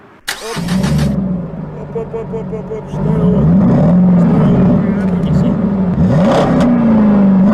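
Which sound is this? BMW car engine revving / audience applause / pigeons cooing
BMW car engine revving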